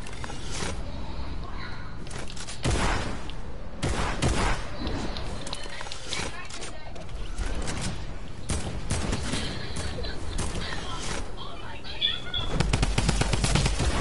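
Rapid bursts of gunfire crack repeatedly through a noisy game-like scene, with sharp shots spaced irregularly over a steady rumbling background and a few louder volleys near the end.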